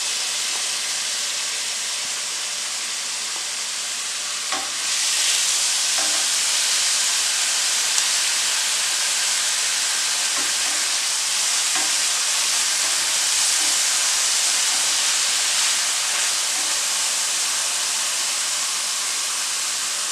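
Red onion sautés in a frying pan with a continuous bright sizzling hiss that swells slightly partway through and stays steady, with faint clinks now and then.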